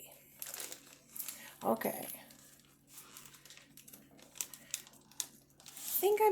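A plastic lunch meat package is torn open by hand, giving bursts of crinkling and tearing between pauses, with a voice speaking briefly near the start.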